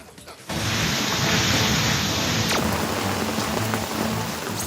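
Steady rain pours down in Tumkur district, a dense, loud hiss that starts abruptly after a brief quiet moment and continues evenly without a break.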